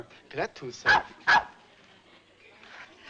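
A dog, Lassie, gives two sharp, loud barks close by in a hotel setting, with a man's brief speech just before them and faint murmuring after.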